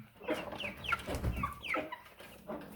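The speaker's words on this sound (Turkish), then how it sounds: "Burada da civcivler var." Chickens clucking in short scattered bursts, with higher chirpy calls from chicks mixed in, close by and moderately loud, no talking.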